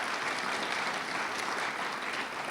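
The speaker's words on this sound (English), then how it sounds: "Let's give them a big round of applause for what they do." Sustained applause from an audience at a mayoral news conference in Albuquerque, a dense, even wash of clapping that holds steady throughout without voices.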